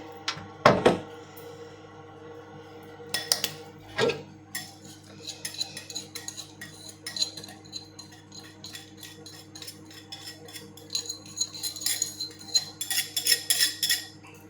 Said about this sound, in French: je vais mélanger les ingrédients secs